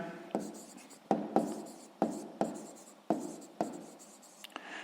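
Pen strokes on paper during a sixth-grade maths exercise, a series of about eight sharp scratchy marks in quick bursts, close and fairly quiet, with no talking over them.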